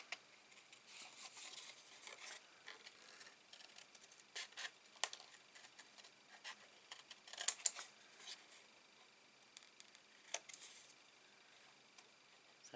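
Scissors snip out a paper card for a snow globe design, producing faint, close, irregular clusters of small crisp cuts and rustles across the quiet stretch.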